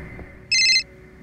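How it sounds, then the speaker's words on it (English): Bat phone ringing in the video game LEGO Batman: one short, bright electronic ring burst lasting about a third of a second over a faint background hum. "Sir, it's the bat phone."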